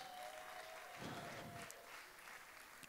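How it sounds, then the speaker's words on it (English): A round of applause from a group, steady clapping that swells briefly and holds, heard at a moderate distance with room ambience. "Please clap for her. Round of applause for her."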